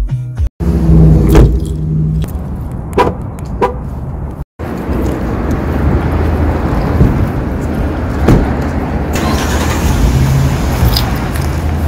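A car drives along steadily, its engine and road noise forming a continuous, fairly loud rumble heard from inside, with a brief clunk or door-like thud early on and no talk over it.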